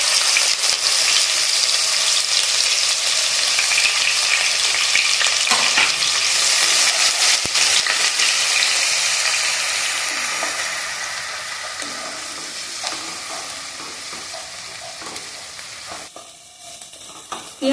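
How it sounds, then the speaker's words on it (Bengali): Grated onion frying in hot oil with a little bay leaf, a dense steady sizzle that runs loud and continuous before easing slightly, with occasional stirring scrapes. "এবারে এর মধ্যে দিয়ে দেবো তেলের মধ্যে গ্রেট করে রাখা পেঁয়াজ।"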